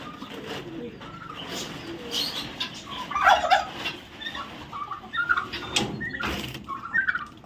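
Pet pigeons cooing nearby, several soft throaty coos and gurgling calls in irregular bursts over a low background hum.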